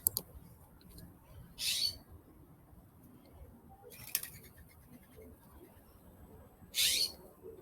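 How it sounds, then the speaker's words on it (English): Birds call outdoors in a quiet setting, three short high chirps spaced a few seconds apart, faint and distant over low background hiss. "So I'm recording the birds again."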